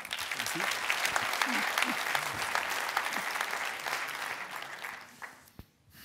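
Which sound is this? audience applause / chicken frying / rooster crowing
audience applause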